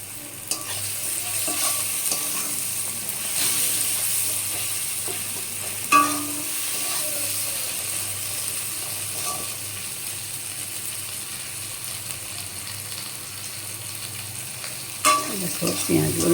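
Onions and tomatoes fry in a pan while being stirred, a steady close sizzle broken by occasional scraping clinks of the spoon against the pan, with no voices.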